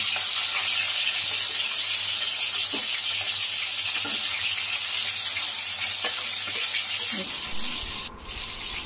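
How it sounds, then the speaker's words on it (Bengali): Hilsa fish frying in a wok for a Bengali fish curry, a steady close sizzle with occasional stirring scrapes, continuing loudly without speech. "এবার আমি বেরেস্তাটা তুলে নিয়ে মাছগুলো কড়াইয়ের মধ্যে একটু কষে নেব।"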